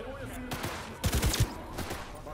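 A Skippy smart gun in Cyberpunk 2077 fires a rapid burst of loud, punchy shots amid game sounds, with a quick second flurry after.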